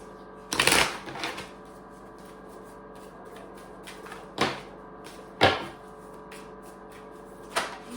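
A deck of oracle cards is shuffled nearby in several short papery bursts, separated by quiet pauses. Faint room hum sits underneath.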